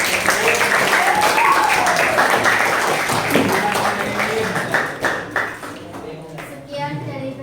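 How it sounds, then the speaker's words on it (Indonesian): Students in a classroom applaud a group presentation, a lively round of clapping mixed with children's voices that fades toward the end as talking takes over. "Tepuk tangan dong untuk kelompok."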